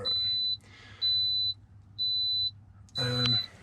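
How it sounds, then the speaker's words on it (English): Four sustained electronic beeps, each about half a second long and evenly spaced, sound from a mid-span alarm on a Victron battery system, close and loud, with a brief burst of other noise at the last beep. "let's switch off that mid-span alarm"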